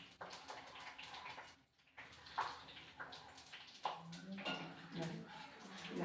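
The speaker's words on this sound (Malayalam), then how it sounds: "വെള്ളം പൊട്ടൽ നിൽക്കാൻ പോകുന്നില്ല" Water crackling and popping in hot coconut oil while homemade herbal hair oil cooks, a dense spray of sharp little snaps over a steady hiss, with a voice talking over it.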